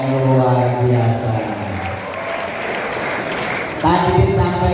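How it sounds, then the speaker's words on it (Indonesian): A school audience at a character-building assembly gives a round of applause for a student, the clapping swelling in the middle between stretches of a voice and tonal music at the start and end. "Tepuk tangan untuk anak yang luar biasa."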